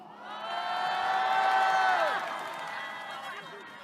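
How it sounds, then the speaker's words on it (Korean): A crowd at a political rally cheers and shouts, the voices swelling to a loud peak over about two seconds and then fading out. "옆에 있는 분한테 큰 박수 부탁드립니다"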